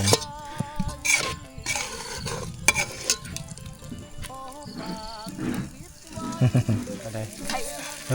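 Food sizzles and crackles in a hot pan with stirring and scraping clatter, while a voice talks intermittently over it.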